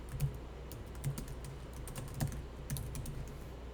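Typing on a computer keyboard during a Korean accounting practice class: a close run of light, irregular key clicks with a few heavier taps like the enter key, ending in a sharp louder press.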